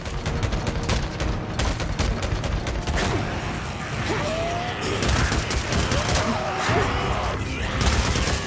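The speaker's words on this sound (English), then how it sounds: "The rest will get taken down by the machine gun." Machine gun fire rips through a zombie horde in the video game Days Gone, dense rapid bursts of gunfire layered with mechanical clatter and creaks, loud and sustained throughout.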